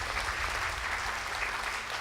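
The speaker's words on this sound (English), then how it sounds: "Give a very strong clap of hands." A church congregation claps hands together, a dense, continuous burst of applause from many people that fills the room evenly for about two seconds with no speech over it.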